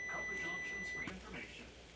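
An oven timer beeps a steady series of high electronic tones while baking cookies, then stops abruptly, with a voice speaking over it.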